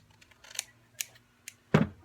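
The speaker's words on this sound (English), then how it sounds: "you could kind of angle your scissors so it went underneath that fold" Scissors trim a paper planner pocket insert in a few sharp, separate snips and clicks, close and quiet, with the last cut the loudest and no talking.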